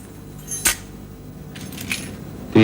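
Keys jangle in a short, sharp burst near the start over a low steady hum, followed by a couple of fainter rattles.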